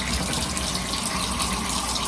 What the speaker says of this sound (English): So just rinsing again, holding them over, get that extra soap off of them.